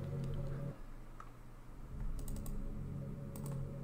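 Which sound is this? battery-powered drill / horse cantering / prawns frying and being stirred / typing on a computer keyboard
typing on a computer keyboard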